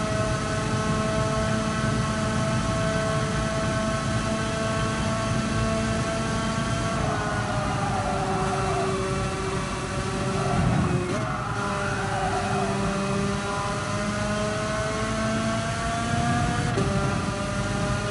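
A go-kart engine drones steadily and loudly while being driven calmly. It holds a constant buzzing tone, with small pitch shifts as the throttle changes and a brief dip midway.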